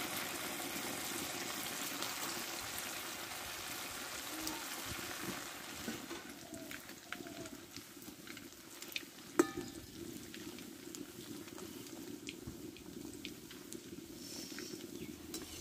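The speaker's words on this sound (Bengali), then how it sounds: "দেখো তেলটা গরম করে নিয়েছি, এবার মিষ্টিগুলো আমি তেলে দিয়ে দেবো" Small semolina sweets fry together in hot oil, a steady close bubbling sizzle that runs throughout, with a few soft clinks and one sharp tap partway through.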